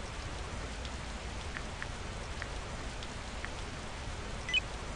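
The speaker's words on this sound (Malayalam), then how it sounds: "അല്ല മഴയെ കൊണ്ട് എന്തോരം കഷ്ടമാ" Rain falls steadily in a video game, a dense, even hiss of drops with faint scattered taps throughout and no voices.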